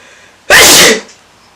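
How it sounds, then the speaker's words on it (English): A single loud, close sneeze, a sharp burst lasting about half a second against quiet surroundings, during a makeup session. "me sneezing."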